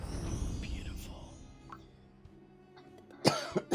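Several short, sharp coughs burst out near the end, close and loud, following a longer stretch of murmured background noise.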